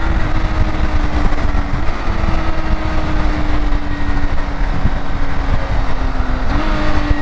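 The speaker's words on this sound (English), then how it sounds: "I'm getting more throttle earlier with this bike now, which is great" A 2022 BMW K1600 motorcycle with a flashed ECU tune pulls hard under throttle, its engine drone loud and close over heavy wind rush, the pitch climbing steadily and then jumping after a gear change.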